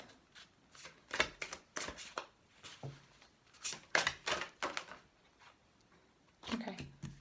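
A deck of tarot-style cards being shuffled, with repeated crisp riffling bursts in an uneven rhythm, close and fairly loud, and a few cards slipping out of the deck.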